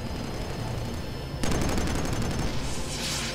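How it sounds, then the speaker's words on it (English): Heavy missile fire in the shooter Killzone 3 roars as a dense, continuous barrage of explosive blasts, with a sharp surge partway through into even louder rapid fire. "Heavy missile fire incoming."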